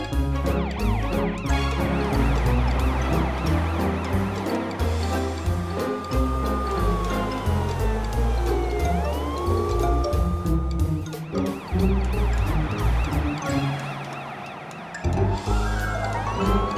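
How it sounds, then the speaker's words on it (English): An animated fire truck's siren wails over busy cartoon music, rising and falling in long sweeps while bright tones and percussion carry on throughout. "Now Morphle can see what a real fire truck can do."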